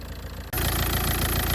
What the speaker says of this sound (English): I'm going to start the engine up and we'll see what it looks like then